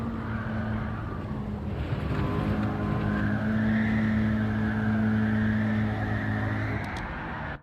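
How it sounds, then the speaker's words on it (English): Tyres squeal and skid as a Toyota 86 or Subaru BRZ slides through a corner at Tsukuba in Gran Turismo 7, a sustained engine drone beneath a rising, wavering screech that lasts several seconds before cutting off. "back tyres lit up"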